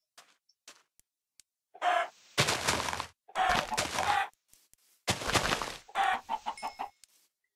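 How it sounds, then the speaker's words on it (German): A video game chicken clucks in short bursts, interspersed with loud, sharp noise bursts, all clear and close with no talking. "Oh, warte mal. Ein Hühnchen."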